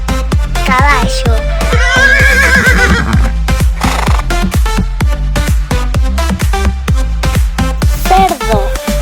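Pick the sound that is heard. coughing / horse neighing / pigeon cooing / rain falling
horse neighing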